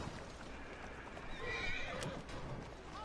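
A horse in the Assassin's Creed Syndicate video game clip-clops along with a faint whinny over a noisy game background, quiet and without talk.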